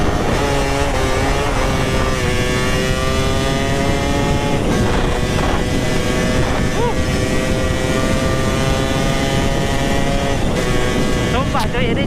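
A Suzuki Satria motorcycle with a daily-ported engine being ridden on the road, its engine droning steadily and loudly throughout with rising and falling revs under wind rush.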